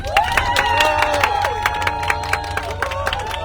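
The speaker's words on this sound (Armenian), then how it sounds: "ձեր հզոր ծափերով կարող եք աջակցել" Crowd cheering and clapping at an outdoor political rally for Armenia's prime minister and his team, with a dense, loud roar and sharp claps, whistles and shouts over a melodic tone line.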